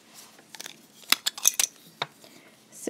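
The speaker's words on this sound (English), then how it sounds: "I'm actually going to trim off that tail thread" Small scissors trimming a beading tail thread, a few sharp close snips scattered over a quiet background, clicking in an irregular handful of cuts with no talk.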